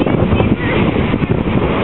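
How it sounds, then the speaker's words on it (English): Strong wind from the north blows outdoors during a windstorm, buffeting the microphone in loud, rough, continuous gusts. "Nice cool wind from the north."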